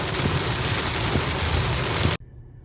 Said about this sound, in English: Nice little rainstorm on my way home.